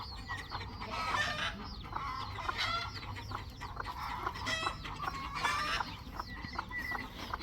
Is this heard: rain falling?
no